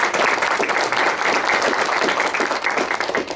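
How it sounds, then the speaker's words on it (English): Audience applause at a Temple City Unified School District event marking a completed solar power project, loud, continuous clapping from many hands that stays steady throughout. "they deserve another round of applause"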